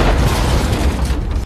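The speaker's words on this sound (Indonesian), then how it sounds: "Xander berhasil menembak Yorgi hingga kapalnya meledak saat menabrak karang." A boat blows up after crashing into rocks in an action film, heard as a single loud, dense booming blast that fills the whole moment and then cuts off abruptly.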